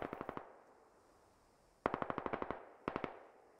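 Automatic gunfire from soldiers in the tactical shooter game Squad: three sharp bursts of rapid shots, the first fading out, a longer loud burst near the middle and a shorter one after, with echoing tails and no talk.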